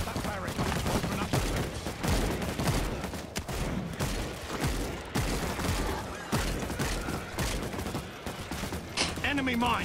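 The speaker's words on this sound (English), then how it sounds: "That's my shotgun." Shotgun blasts in the co-op zombie shooter World War Z: Aftermath, loud and close inside a dense, continuous barrage of overlapping gunfire and mechanical clatter, with voices talking over the shooting.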